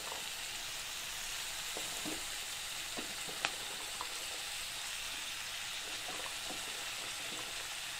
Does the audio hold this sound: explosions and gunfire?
no